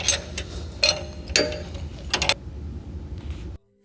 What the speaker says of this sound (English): We will use our 24mm wrench to fully tighten the rods because they are so long that our deep socket does not go all the way down